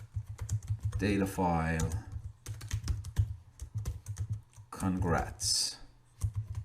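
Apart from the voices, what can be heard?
typing on a computer keyboard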